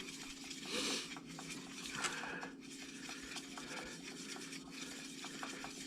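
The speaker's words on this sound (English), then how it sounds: "Now I'm going to take a medium-sized brush, and I'm going to stir that up." A medium-sized brush stirs paint with faint, soft scraping and swishing strokes, a quiet and steady rubbing texture up close with a few slightly louder swirls.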